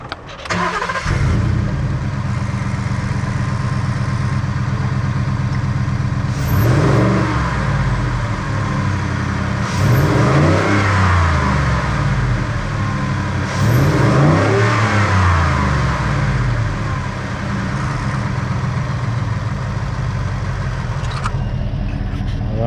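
A 2018 Ford F-150 with a 5.0 V8 and Roush cold air intake starts and settles into a deep, steady idle, then revs up three times in evenly spaced swells; the engine sounds close and loud with no talking.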